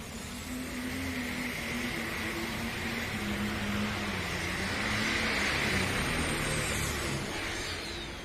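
A diesel super stock pulling tractor revving at a fair truck and tractor pull, its engine note climbing and wavering in a sustained roar that peaks midway and then eases, heard from the stands with no talk.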